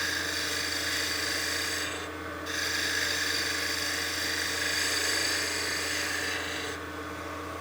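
Wood on a lathe being smoothed at the cove of a mini mushroom Christmas ornament, a steady continuous rasping, scraping hum with two brief dips where the tool lifts off.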